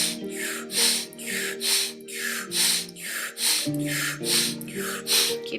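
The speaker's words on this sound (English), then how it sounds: "Powerful breath through the mouth." Strong, forceful breaths in and out through the mouth during a yogic breathing exercise, about ten rhythmic loud breaths close up in a steady cycle over a low droning musical background.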